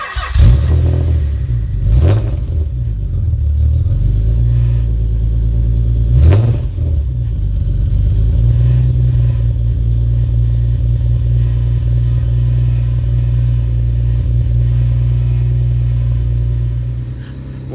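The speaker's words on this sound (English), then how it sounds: "So let me just start her up." A Nissan 300ZX Z32 engine cold-starts with a sharp crank and catch near 2 seconds, settles into a steady low rumbling idle, then gets a brief rev blip around 6 seconds before idling on loud and close.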